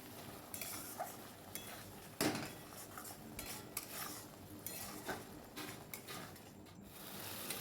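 A spoon scrapes and clinks against a pan while spiced cashew curry is stirred, with soft sizzling underneath and a sharper metallic knock partway through, fairly quiet and close.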